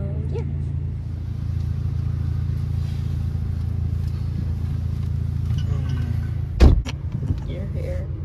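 Interior road noise of a car being driven, a steady low engine and tyre hum filling the cabin, broken by a short sharp knock or thump near the end.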